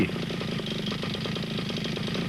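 A small engine started with a pull cord and revved at full throttle, running with a steady, loud, rapid mechanical chug close by, with no talk over it.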